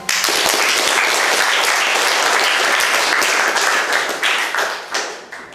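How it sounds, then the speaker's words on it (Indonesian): Audience applause in a room, many hands clapping together in a loud, steady wash that continues throughout and tapers slightly toward the end. "Give applause to him."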